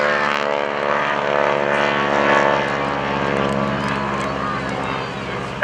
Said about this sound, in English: pulled the throttle back a little bit on this airplane